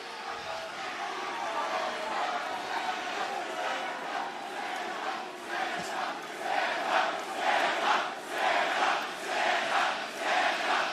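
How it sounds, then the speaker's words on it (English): A wrestling crowd at a live AEW holiday event chanting in rhythmic, pulsing waves that grow louder and more regular toward the end, with a commentator's voice underneath. "He's got the crowd chanting Santa."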